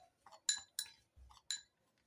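Homemade body scrub of coffee and sugar being mixed in a bowl, heard as a few separate clinks and scrapes of a utensil against the bowl, quiet and spaced out with short silences between.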